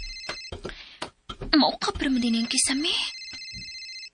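A mobile phone ringtone rings loudly and close in a home, its electronic tone playing over and around a person speaking.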